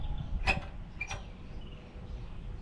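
A choke knob on an old Wisconsin engine is pulled out, giving two short creaking, scraping mechanical sounds close by, followed by quiet room background.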